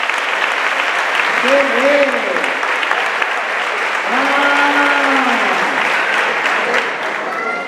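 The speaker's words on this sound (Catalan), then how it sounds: "Un fort aplaudiment, sisplau!" An audience at a school singing event applauds loudly and continuously, dense clapping filling the space while a voice speaks briefly over it.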